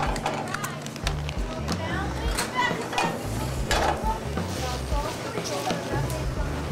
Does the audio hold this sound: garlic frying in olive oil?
yes